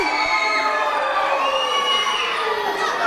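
A wrestling arena crowd at a championship show roars and cheers steadily, loud and dense throughout, with shrill higher voices mixed into the sustained din.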